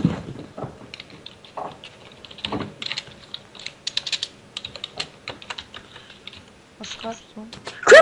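Computer keyboard typing, quick irregular clicks in bursts throughout, close and crisp, with brief voice sounds near the start and end.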